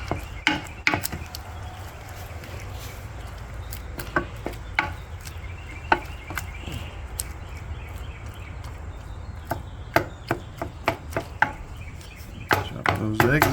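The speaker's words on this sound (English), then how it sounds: "Chop those eggs up a little bit." Cooked eggs are chopped for breakfast burritos, with irregular sharp taps and knocks of the utensil scattered over a steady kitchen hiss.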